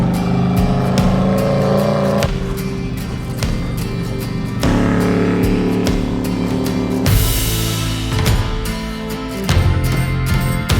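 A 1986 VW Vanagon with a 2.2-liter four-cylinder engine climbs a steep mountain road. The engine drones loud and steady, shifting pitch as it changes gear and labours uphill, with no speech.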